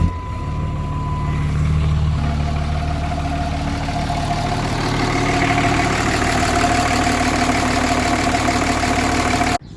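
A repaired Suzuki Gixxer motorcycle engine fires up and settles into a steady idle, a close, continuous low rumble that holds for the whole stretch before cutting off abruptly.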